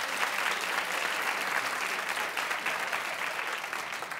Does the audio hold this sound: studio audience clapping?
yes